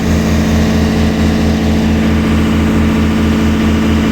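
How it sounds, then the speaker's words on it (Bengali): A generator aboard the Parabat 10 passenger launch hums close and loud, in a steady low pulsing drone with a regular rhythm and no voices. "ওটা সম্ভবত জেনারেটর।"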